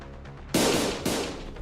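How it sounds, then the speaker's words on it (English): A loud explosion in a game cutscene: a sudden sharp blast followed by a second burst about half a second later, both decaying into rumbling noise. "A loud explosion left Don Quixote dismembered where she stood."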